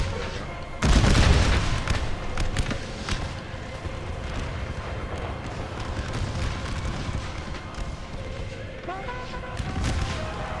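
Massed musket volley in an American Civil War battle game, a loud booming fire roll bursting at once, then ragged crackling shots and distant reports trailing on under a voice.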